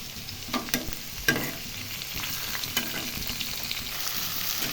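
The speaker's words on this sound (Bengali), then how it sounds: "দেখো পটল ভাজা হচ্ছে।" Pointed gourd (potol) fries in oil in a pan, a steady soft sizzle running throughout, broken by a few light clinks and scrapes of stirring early on, close and fairly quiet.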